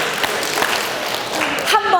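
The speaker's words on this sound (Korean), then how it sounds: "박수 3번 시작." An audience at a book lecture on leadership claps in short rhythmic bursts, fairly loud and close, with voices mixed in.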